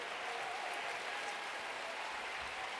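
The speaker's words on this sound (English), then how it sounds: "Give them a round of applause." Steady applause from an audience, a dense continuous patter of clapping that fills the whole stretch without pause.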